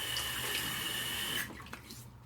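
Water gushing steadily from a bathroom tap into a sink as hands wet a face during a shave prep, close and constant, then cut off abruptly, leaving a few soft drips and splashes.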